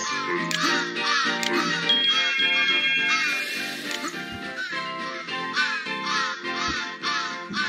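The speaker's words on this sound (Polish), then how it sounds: "dwa, że nas kruki witają." Ravens cawing in the Santa Claus in Trouble video game, a busy run of harsh repeated bird calls layered over game music and effects, loud and continuous throughout.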